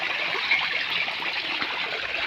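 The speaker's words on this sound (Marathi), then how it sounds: "चला इथून भरून घेऊन जाऊ पाणी आपण" Water runs steadily from a tap on a farm as a container fills, a constant close rushing with no pauses across the short stretch.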